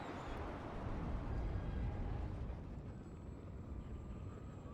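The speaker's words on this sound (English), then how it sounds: "So I can hear planes, and this is a lot of planes" Many planes flying overhead in the strategy game WARNO, a faint, broad roar that swells and then slowly fades.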